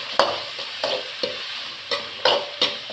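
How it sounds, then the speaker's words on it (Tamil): Tomatoes and other ingredients are stirred and sautéed in oil left over from frying cauliflower, with a spatula striking the pan in sharp, irregular taps over a steady hiss of frying, close and clear. "வதக்கிக்கிறேன்."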